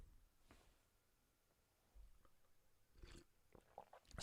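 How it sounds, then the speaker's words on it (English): A few short, wet slurping sips taken close up, separated by near silence, with the loudest sips coming toward the end. "I'm just slurping my tea."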